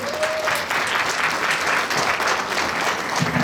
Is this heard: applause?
yes